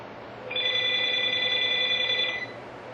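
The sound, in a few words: telephone ringing with a special ring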